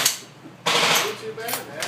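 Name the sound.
308 sniper rifle gunshot at a gun store range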